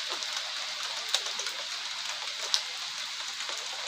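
Light drizzle falls over a mountain village in Tawangmangu in the late afternoon, a soft steady hiss of rain with a couple of sharper drops and no voices.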